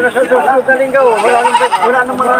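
Wavering goat bleats rise and fall over a steady hum of people talking nearby at a goat market, the calls overlapping without a clear pause.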